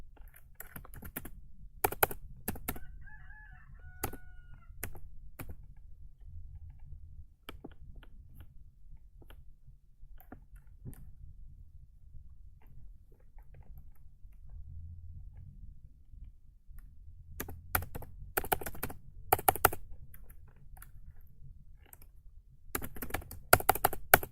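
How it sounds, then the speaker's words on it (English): Computer keyboard keys are typed in scattered bursts of quick, faint clicks, with pauses between runs and no talking. "This is just me boring typing."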